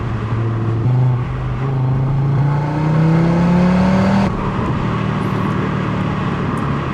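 A turbocharged 2025 Audi RS3 hatchback accelerates hard. The loud engine note climbs steadily in pitch, then drops abruptly at a gear change and settles into a lower drone.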